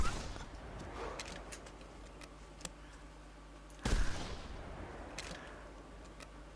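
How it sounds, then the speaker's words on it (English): A single hunting rifle shot in the video game theHunter, one sharp loud crack midway with a short rolling echo, set against a faint outdoor ambience with a few small ticks. "He's right on top of us, so I'm going to take the shot."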